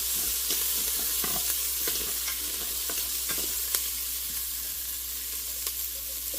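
Garlic and onions sizzle steadily in a pan with browned fond on the bottom, with a spoon scraping and stirring through them in repeated strokes and an occasional sharp clink, close and continuous with no talking.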